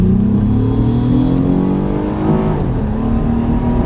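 An Acura TL Type S in manual mode with paddle shifting accelerates hard, the engine note loud and close, pulling strongly through the revs with a clear shift partway through.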